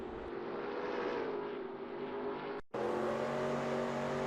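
Race car engine droning steadily at Watkins Glen in the NASCAR Racing 2002 video game, a loud continuous tone with a brief cut in the middle before resuming.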